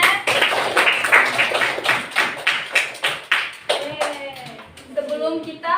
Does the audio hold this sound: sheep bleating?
no